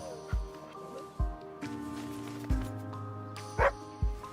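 Dog barking in a video game: a handful of short, sharp barks at irregular spacing, fairly close and clear over a steady game music backdrop with no talking.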